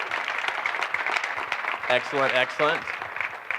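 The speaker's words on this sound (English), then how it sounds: "Please, big round of applause." Applause from a seminar audience, a dense patter of claps lasting the whole moment while a voice speaks a brief word over it near the end.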